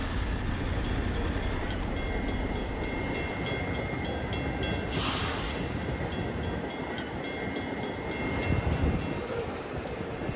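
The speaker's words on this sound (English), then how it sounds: "I even got stopped at a train crossing for a few minutes." A train rolls past a railway crossing at close range, a continuous heavy rumble with rattling cars and a faint horn-like tone over the steady noise.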